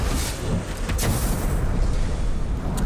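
Explosive ranged shots in the combat game Middle-earth: Shadow of War, heavy booming blasts with a sharp burst near the start and around one second, over continuous loud rumbling battle noise.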